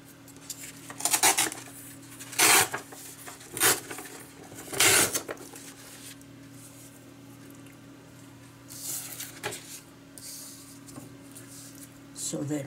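Sheets of patterned paper are torn by hand for happy mail crafts. There are several short, sharp rips spaced a few seconds apart over a steady low hum, and a voice can be heard faintly at times.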